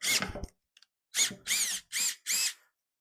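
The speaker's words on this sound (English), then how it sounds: "So what I'm going to do is go ahead and drill out 2 holes, 1 hole, 2 holes, 1 hole," A power drill bores holes in a wooden mash paddle in four short, close bursts, each with a whining motor that rises and falls, after a moment of clatter at the start.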